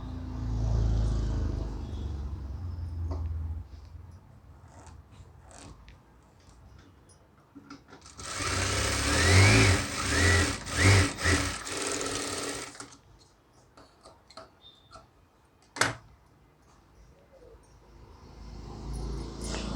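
A sewing machine stitches a crisscross belt onto a garment in a fast, loud burst of several seconds, framed by quieter handling and fabric rustling before and after.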